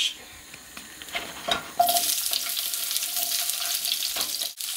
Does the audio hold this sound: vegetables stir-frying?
yes